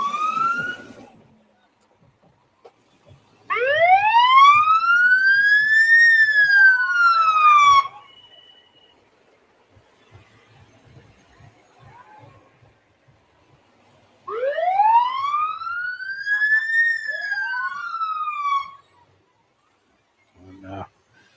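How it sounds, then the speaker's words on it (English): Youngsville Fire Department trucks in a Fourth of July parade sound rising-and-falling wailing sirens in two loud bursts, with quieter street noise between them. "The Youngsville Fire Department making an awful lot of noise coming up the street."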